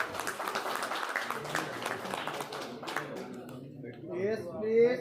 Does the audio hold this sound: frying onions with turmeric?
no